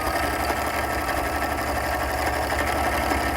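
A sewing machine runs continuously while stitching layers of fabric for a pillow, a steady close whirring drone with a fine rapid mechanical rhythm and no pauses.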